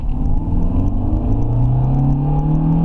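Renault Scenic RX4 running on LPG pulls away in first gear, its engine rumbling loud and steady while the revs climb smoothly, a rising drone throughout with no voices.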